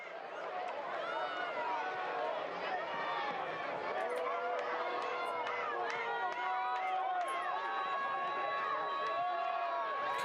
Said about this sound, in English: This crowd urging on the home side tonight